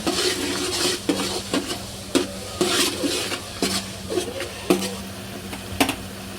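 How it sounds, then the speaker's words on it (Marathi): Ginger garlic paste is stirred into frying onions for pav bhaji, with a spoon scraping the pan in repeated strokes over a soft, continuous sizzle. "आता इथे मी अद्रक लसूणची पेस्ट मिक्स करून घेऊ."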